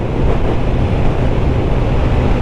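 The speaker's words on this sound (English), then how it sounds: "Very windy though." Steady, heavy wind buffeting the microphone during an evening motorcycle ride, a continuous low roar with no pauses and no voices.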